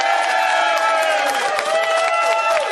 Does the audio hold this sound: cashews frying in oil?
no